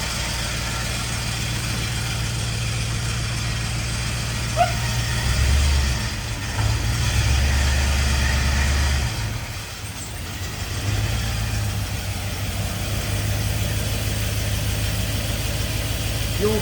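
A 1951 Chevy with a swapped-in LS engine idles steadily after its first start, a low continuous rumble heard close up with small surges in level and no talk over it.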